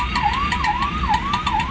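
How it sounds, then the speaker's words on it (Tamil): An ambulance siren approaching from behind wails, rising and falling in a steady repeating cycle, fairly loud over low traffic rumble, with no voices. "இன்றைக்கி பின்னாடி வேறு ஆம்புலன்ஸ் வந்துட்டுருக்கு"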